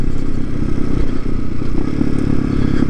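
A TaoTao TBR7 motorcycle rides over loose gravel, its engine running steadily, close and loud, with continuous crunching and clattering from the tyres.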